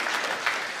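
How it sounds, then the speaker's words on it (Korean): Brief burst of congregational clapping during a Sunday church service, fairly faint and diffuse, lasting under a second. "박수로 격려해 주세요."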